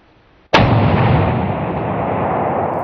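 A single rifle shot fired during roe deer hunting cracks out loud and sharp, then rolls into a long, broad echoing decay that lingers for over two seconds with no talk.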